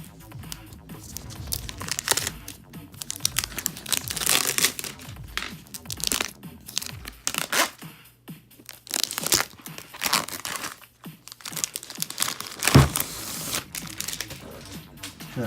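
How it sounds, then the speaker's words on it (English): Thin plastic film crinkles and tears as it is peeled off a Microsoft Surface Laptop, close up, with irregular rustling bursts and a few sharper crackles and handling knocks. "Let me try to get this plastic off."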